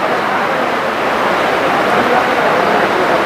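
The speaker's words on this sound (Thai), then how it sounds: "ขับฝนตก" Rain falls steadily while someone drives, heard as a constant, dense hiss with no distinct drops or breaks throughout.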